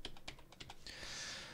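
Fast typing on a computer keyboard while working in a spreadsheet: a quick run of faint clicks, then a soft hiss.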